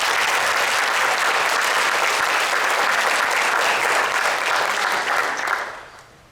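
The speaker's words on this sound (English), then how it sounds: "Let's give these ladies a round of applause." A crowd at a county Teacher of the Year ceremony applauds honored teachers with full, sustained clapping that holds loud and even, then fades out near the end.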